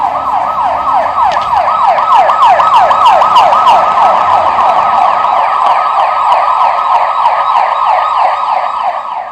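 An ambulance siren wails in a rapid, continuous yelp pattern as the ambulance approaches a hospital, loud and close throughout with road noise underneath and no voices.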